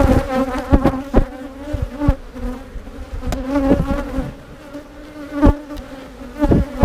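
Honeybees at an open beehive with a frame of brood, loud close buzzing in a dense drone that swells and fades as individual bees pass near, with sharp flybys cutting through.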